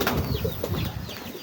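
Pigeons kept by a Filipino fancier, with soft cooing and flutters of wing flapping in a busy, close mix of bird sounds throughout.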